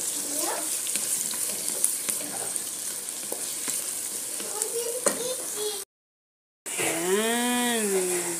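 Ginger stirs and sizzles in a frying pan as crab with spinach and coconut milk is cooked, giving a constant close fry hiss with light scraping strokes, a brief dropout, then a voice speaking over the sizzle.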